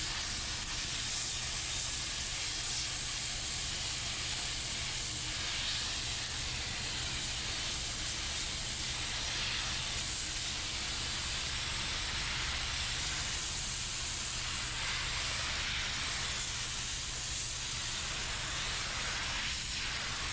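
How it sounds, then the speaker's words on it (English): A Wagner steamer gives a steady, loud, unbroken hiss during window tinting work on a 2009 Ford F-150, with no talk over it. "Love that Wagner steamer."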